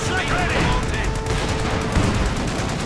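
Machine gun fire in the real-time strategy game Company of Heroes 2, a steady dense crackle of automatic fire from a half-track and German infantry under a commentator's continuous talk.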